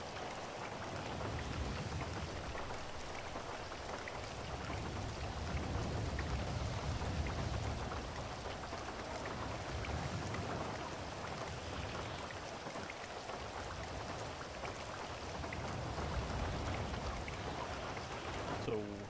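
Steady rain pours with low thunder rumbling in waves during a storm in GTA V, a dense continuous wash of drops that swells and eases over the whole stretch.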